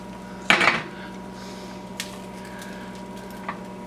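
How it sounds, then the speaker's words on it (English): A spatula scrapes and taps against a frying pan while folding in the edges of a mushroom cheese omelet over medium heat: one clear close scrape, then two faint light taps over a steady low hum. "we're going to start folding in the edges and letting the raw egg come to the outside"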